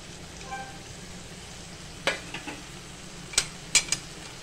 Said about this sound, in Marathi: आता हे मसाले टाकून पण आपण हे परतून घेणार आहे